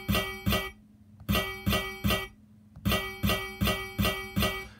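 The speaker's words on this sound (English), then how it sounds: "So it's a really metallic, kind of a high-pitched sound" A metallic, high-pitched saw synth sample played as a rhythmic series of bright, sharp, bell-like stabs in two groups of repeated hits, loud and alone.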